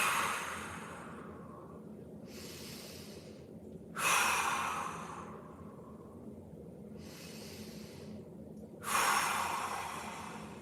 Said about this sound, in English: 3 big breaths